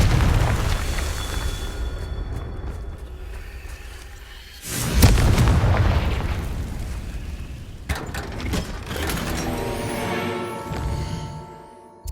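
Spell explosions from the Confringo curse in Hogwarts Legacy gameplay, a heavy booming blast around the middle followed by another burst and crackling, mechanical game effects, loud and with no talking.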